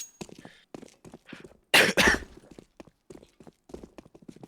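A single loud, harsh cough bursts out close by, set among quieter scattered voice sounds and clicks.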